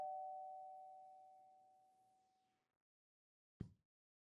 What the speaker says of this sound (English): our negotiator fixes her hair and rings the doorbell